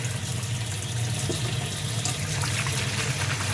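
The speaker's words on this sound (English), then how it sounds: "Turned on the cold tap so that I don't burn my fingers while I'm doing this." Cold tap water pouring steadily into a kitchen sink for washing dishes, a continuous close splashing rush that stays even throughout, with no voices.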